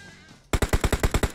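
Automatic gunfire in the PUBG Mobile video game: a sharp rapid burst of about nine evenly spaced shots, loud and close, after a brief quiet lead-in.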